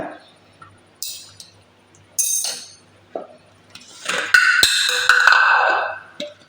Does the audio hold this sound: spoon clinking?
yes